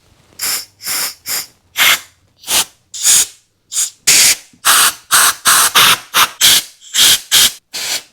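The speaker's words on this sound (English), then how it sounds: "now we're going to take the little air compressor and blow through all the holes" Repeated short bursts of compressed air from a small air compressor nozzle blasting through the holes of a freshly chem-dipped carburetor, about fifteen sharp hissing puffs in an uneven rhythm, close and loud with no talking.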